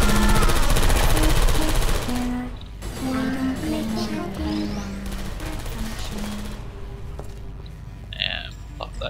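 Portal 2 turrets fire in a video game, rapid stuttering bursts of mechanical gunfire heard early, then quieter clatter, beeps and game effects for the rest of the clip.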